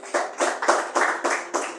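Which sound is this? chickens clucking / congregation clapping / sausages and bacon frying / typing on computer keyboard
congregation clapping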